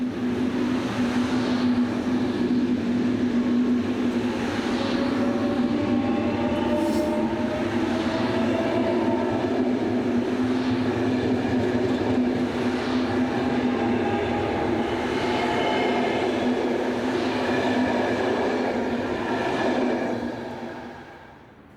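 A Class AM96 electric multiple unit runs eastbound toward Brussels, a loud continuous rail roar with a steady hum and wheel noise sustained throughout, fading slightly at the very end.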